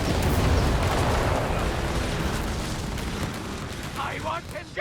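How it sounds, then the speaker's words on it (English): Rocket strike explosions from a Company of Heroes 3 match: a dense, rumbling barrage of booms and bursts rolling on steadily for several seconds, loud at first, with game sounds and chatter layered underneath. "Bring in the rocket strike"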